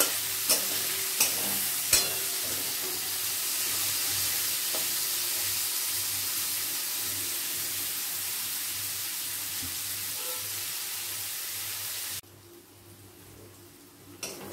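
Chopped onions go into a pan with a dried chili tempering and fry in a steady, close sizzle, with a few sharp stirring clacks at the start, until the sound cuts off abruptly near the end.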